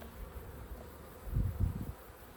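Honey bees buzz around an open backyard hive during a hive inspection, a low, faint drone that swells briefly in the middle of the short stretch and then settles back.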